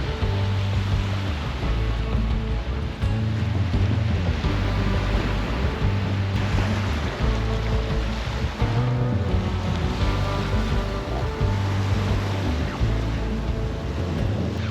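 Ocean waves washing onto the beach at North Lefroy, a steady broadband surf wash with some wind rumble, continuous and fairly loud throughout, with no voices.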